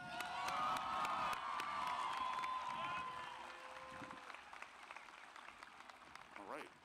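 A high school graduation crowd at Canby High School applauds and cheers for the class of 2022, loud broadband clapping with whoops and shouts that swell early and then taper, joined by tonal noisemakers and scattered voices.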